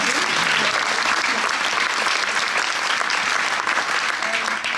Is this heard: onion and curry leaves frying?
no